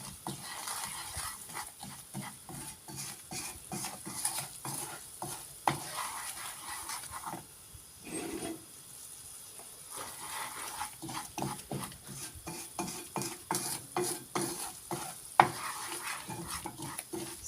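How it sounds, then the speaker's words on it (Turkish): Mıhlama, a Turkish breakfast dish of melted cheese, sizzling in a pan on low heat and stirred repeatedly, giving rhythmic scraping strokes over a soft frying hiss, with a brief quieter pause midway. "sabırla kavurmamız lazım arkadaşlar"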